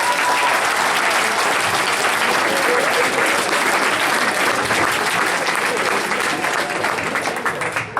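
Audience applause for hypnotist volunteers at a grad night show fills the room with dense, sustained clapping, steady and loud across the whole stretch with a faint crowd murmur beneath it.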